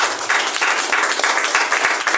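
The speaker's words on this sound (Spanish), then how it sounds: "Si lo crees, den un aplauso." Church congregation applauding together, a steady continuous wash of many hands clapping at close range with no speech over it.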